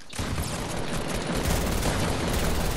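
Rapid, continuous gunfire from the video game Fortnite, loud and close, with dense overlapping shots and no pause for the whole stretch.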